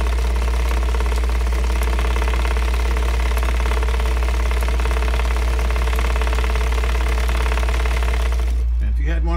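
A vintage Singer 206K zigzag sewing machine running a straight stitch, a steady, loud, continuous motor hum and rapid needle chatter that stops abruptly at the end.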